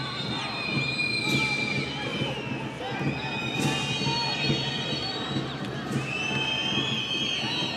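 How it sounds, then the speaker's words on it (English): Home football crowd at an AFC Champions League group match in Qatar whistling shrilly for the final whistle, sustained high whistles rising and falling over a broad roar of stadium noise, with a commentator talking underneath. "Can hear the home crowd wanting the final whistle."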